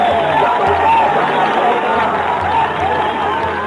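A large crowd at a rally cheers and roars continuously with a loud, dense murmur of many voices, while people talk over it.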